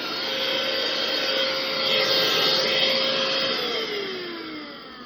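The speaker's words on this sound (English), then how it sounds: "that's the Craftsman stick vac" A Craftsman cordless stick vacuum runs with a loud, steady high-pitched whine up close, with its pitch shifting slightly near the end.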